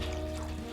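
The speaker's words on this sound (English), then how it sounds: "You then want to pour half a pint of boiling water into your jug." Boiling water poured into a measuring jug over broken jelly cubes, a short steady liquid stream with a faint rising fill tone, close and continuous, no talking.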